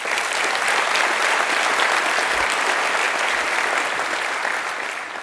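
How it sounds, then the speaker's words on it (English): Conference audience at the DockerCon 2018 general session in San Francisco applauds in a dense, steady wash of clapping that holds loud for several seconds before starting to taper. "Please join me in another round of applause for Rashmi and Frandy."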